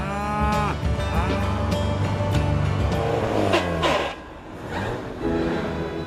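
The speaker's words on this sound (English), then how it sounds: "Renting a vintage model like this 1969 Morris Minor is a great way to get around." A vintage 1969 Morris Minor drives along, its engine humming with a tonal drone that rises and falls as it changes speed. The sound is fairly close and continuous, dips briefly, then returns, with no talking.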